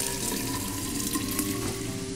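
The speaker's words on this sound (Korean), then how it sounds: "수도꼭지를 틀어야 해." Water running steadily from a kitchen tap in the video game Fran Bow, a continuous close rush with no talking.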